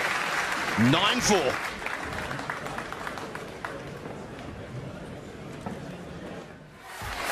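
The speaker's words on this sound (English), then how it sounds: "A wonderful ovation from this capacity crowd as the players return." A capacity crowd at a snooker match in London applauds steadily as the players return, a broad clapping wash heard under a commentator's voice and slowly tapering off.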